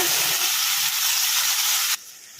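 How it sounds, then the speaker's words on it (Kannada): Tomato puree frying in a pan over medium flame with a steady, loud broadband sizzle that cuts off abruptly near the end, leaving only faint background hiss. "ಈಗ ಟೊಮೊಟೊ ಪ್ಯೂರಿ ಹಸಿ ವಾಸನೆ ಹೋಗೋವರೆಗೂ ಫ್ರೈ ಮಾಡ್ಕೊಂಬಿಡೋಣ"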